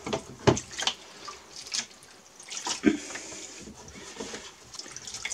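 Tap water runs and splashes in a sink to wash a selenium-toned lith photographic print, a soft uneven trickle with a few louder splashes, close and fairly quiet.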